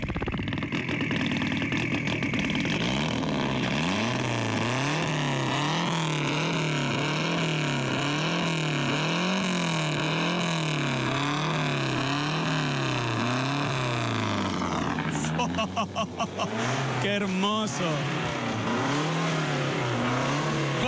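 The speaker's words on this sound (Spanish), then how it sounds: "yo me voy a acercar al lugar donde suena el auto y vos lo vas a hacer hablar" A race car engine revs hard and loud for about fifteen seconds, its pitch rising and falling through repeated accelerations, then cuts to sharp bursts of throttle. A voice briefly exclaims over it near the end.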